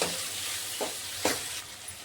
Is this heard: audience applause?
no